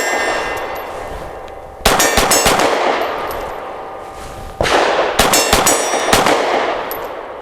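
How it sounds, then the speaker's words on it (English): Grand Power P1 Ultra pistol fired outdoors, two loud sharp shot strings, each opening with a sharp crack and followed by a rapid burst of close, ringing reports that decay slowly, no talking. "that is really flat and smooth shooting"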